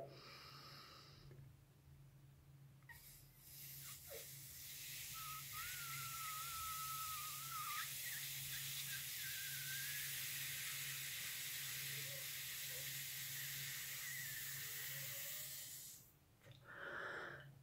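During a singing breathing exercise, a long, controlled exhalation streams out as a steady, close hiss that lasts many seconds. A faint whistling tone rides on top of it, and the breath is bracketed by short sharper breath sounds at the start and end.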